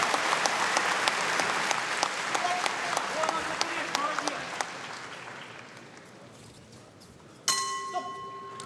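Crowd applause at a fighting match between Roman "Dobryak" Kolesnyk and Nazarii Melnyk: sustained clapping under a commentator's voice gradually fades, then a ringing bell sounds near the end.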